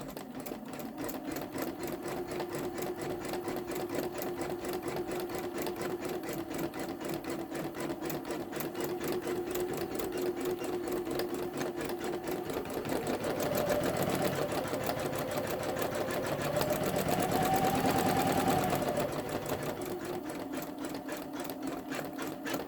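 A Janome Memory Craft 10001 embroidery machine stitches out a scarecrow design in a steady, continuous whir that runs close and alone throughout, rising slightly in intensity near the end.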